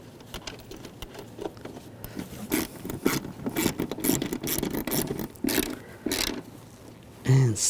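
A bolt on a rear ABS wheel speed sensor of a 2003-2008 Subaru Forester is snugged down with a ratchet, giving close, uneven clicking and scraping bursts, with a louder knock near the end.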